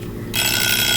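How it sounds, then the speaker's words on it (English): A kitchen timer alarm suddenly starts going off after a short quiet moment, a loud, steady electronic ringing that carries on to the end without any talking. "I set the alarm for 10 minutes."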